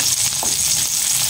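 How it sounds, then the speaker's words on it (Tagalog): Garlic fries toward golden brown in a pan, giving a dense, steady sizzle that crackles close and loud without pause. "malapit na mag-golden brown ang ating bawang"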